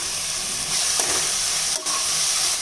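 An onion mixture with tomato, coriander and mint sautés in a pan with a steady loud sizzle, broken now and then by stirring scrapes.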